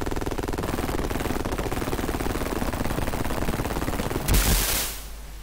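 Barracks being blown up in the Sega Genesis game Urban Strike: a continuous rattle of rapid gunfire runs throughout, then a louder explosive burst near the end that fades away.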